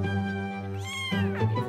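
A cartoon cat meows in a drawn-out, rising and falling call, clear and close, with a second shorter meow near the end and no talk over it.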